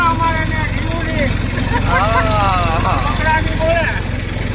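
An Eicher tractor fitted with a rotavator runs with a steady, loud low engine throb, while people talk and call out over it the whole time.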